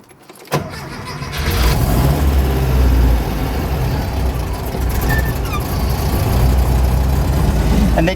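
A restored 1971 Porsche 914 four-cylinder with a 5-speed starts with a sharp catch, then settles into a loud, steady low engine drone that swells with a little gas, heard up close throughout.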